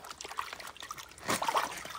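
Water trickling and splashing over a freshly dug crystal with a thin glass back, pulled from a crystal pocket, a steady wet dribble that swells louder toward the end, with no talking.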